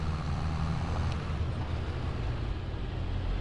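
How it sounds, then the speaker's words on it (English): Steady low engine rumble of a tractor in Farming Simulator 22, droning continuously and evenly from close by with no talk over it. "I can hear that tractor in front of me through my cab light"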